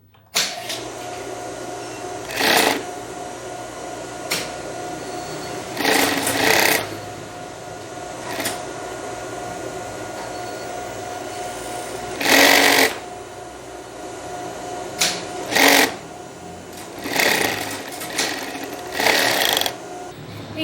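An industrial straight-stitch sewing machine runs in several short bursts while sewing a French seam, each whirring run loud and close, separated by quieter pauses.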